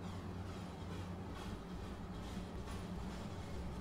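An electric train departs on the Arosa line in Train Sim World 2, a quiet, steady rumble of motors and wheels on rails continuing evenly throughout, with no speech.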